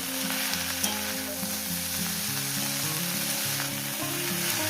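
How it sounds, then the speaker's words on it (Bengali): Dried shrimp and beto greens fry over medium heat in a pan, giving a steady, close crackling sizzle with faint stirring throughout and no voices. "সবটাকে দিয়ে এইভাবে একটু ভাজা করে নিতে হবে"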